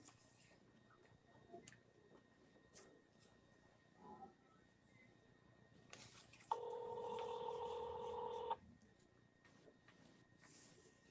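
A telephone call placed from an office meeting room: faint clicks and taps, then a loud steady tone holding for about two seconds before cutting off into quiet room noise.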